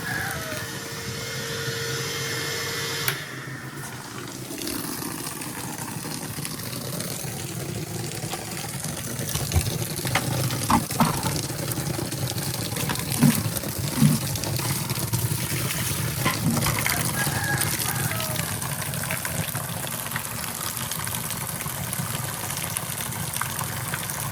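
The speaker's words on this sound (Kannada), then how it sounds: "ನಾನು ಇಲ್ಲಿ ವಾಟರ್ ಟ್ಯಾಂಕಿಗೆ ನೀರು ಆನ್ ಮಾಡಿದ್ದೀನಿ ತುಂಬಿತು ಆಫ್ ಮಾಡೋಣ" Continuous rushing of tap water pouring into a household water tank, a steady close gush with slight swells, no voices present.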